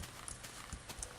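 Horse hooves clip-clopping in Minecraft, a quiet, steady patter of soft hoof steps with no talking.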